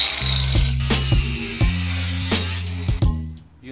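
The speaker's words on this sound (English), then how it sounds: "Grinding." Metal being cut with an angle grinder's cutting disc while building a gravity drift trike, a steady high whine with repeated rasping bites into the metal, close and loud.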